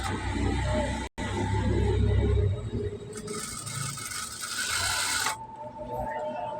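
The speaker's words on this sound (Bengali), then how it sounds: "লেসটা একটু শক্ত, যে কারণে আপনার একটু ধীরে ধীরে চালাতে হচ্ছে মেশিনটা" A sewing machine runs slowly while stitching stiff lace onto a salwar. It makes a steady mechanical whirr with ratcheting clicks, a brief stop near the start and a brighter, busier stretch later, with no talking.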